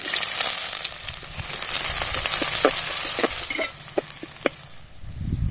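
Onions go into hot oil with cumin seeds and bay leaves and fry with a loud, steady sizzle up close, broken by a few light stirring clicks and taps.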